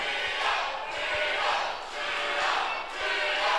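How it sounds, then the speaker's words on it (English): Crowd at an independent wrestling show cheering loudly, a dense roar that surges in waves with rhythmic thuds beneath, close and continuous. "And it sounds like this crowd is highly behind William here"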